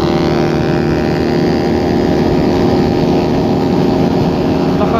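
Loud, steady motorcycle engine drone on a group ride, carbureted bikes running together, with a continuous low rumble and no pauses for the full stretch.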